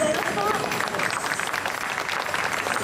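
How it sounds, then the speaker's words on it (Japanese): Festival audience clapping at the Rath Yatra chariot festival in Kawasaki after a dance performance, a steady crowd round of applause with faint voices and a brief high tone near the start. "もう一度拍手をお願いいたします。"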